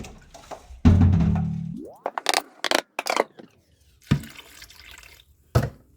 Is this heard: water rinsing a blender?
yes